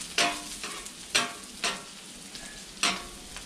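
Sliced peppers sizzle in a hot pan for a Philly cheesesteak, with a soft continuous fry broken by five sharp stirring scrapes spaced through the clip, fairly quiet and close.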